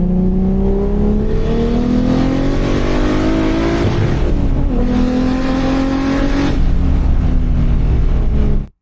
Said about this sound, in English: It accelerates well, yeah. It makes quite a sound.